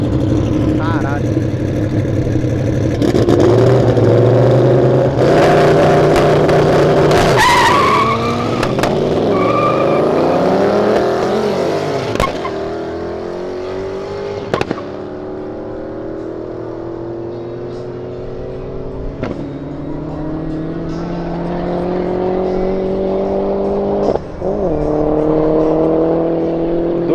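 A Nissan Skyline GT-R R34 drifts, its engine revving and rising while the tires squeal and skid in long, loud sweeps. The engine then settles to a lower drone with brief bursts, and voices talk over parts of it.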